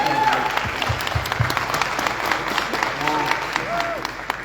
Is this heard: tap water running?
no